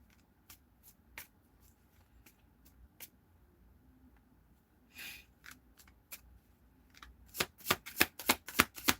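Tarot cards are shuffled softly with scattered light taps, then a quick, loud riffle of snapping cards near the end. No voices.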